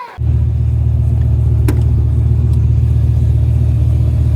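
A BMW E46 M3 with a swapped-in S85 V10 engine idles with a deep, steady low rumble, close and loud, after starting up to drive off.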